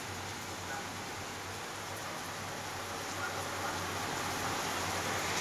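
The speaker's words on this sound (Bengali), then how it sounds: "বৃষ্টি এসে গেছে, কত জোরে।" Heavy rain falls steadily outdoors, a dense, even wash of noise that holds constant and swells slightly toward the end.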